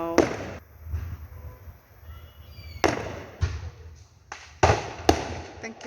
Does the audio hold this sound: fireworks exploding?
yes